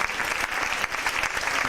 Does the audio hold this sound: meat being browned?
no